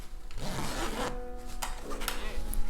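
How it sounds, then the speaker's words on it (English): An invisible zipper sliding up along fabric during sewing, a continuous close raspy zipping rub lasting a couple of seconds with slight scratchy variations and no talking. "I usually find that it's helpful to zip this up just to make sure that it is all even"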